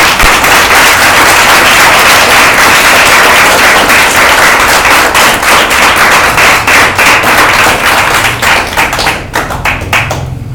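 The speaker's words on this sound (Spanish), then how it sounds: "Dale un aplauso a Dios." A church congregation claps loudly and steadily for several seconds, then the applause thins out into scattered individual claps.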